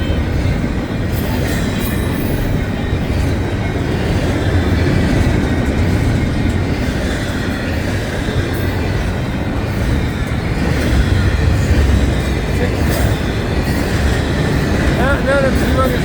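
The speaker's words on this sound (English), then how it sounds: "Not a humongous train tonight, but a train nonetheless." A modest-length train rolls past at night, close and loud, with a steady rumble of wheels over rails and faint clacking and squealing throughout; a brief voice is heard near the end.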